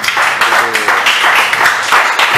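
A church congregation bursts into a short round of brisk, loud clapping at the close of a worship service, with a voice briefly audible among the hands.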